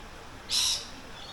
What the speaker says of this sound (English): the little lorikeets or parakeets